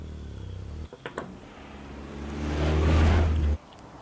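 Koenigsegg Agera engine in the racing game The Crew, a few short blips followed by a rising rev that swells loudly for about a second and then cuts off abruptly.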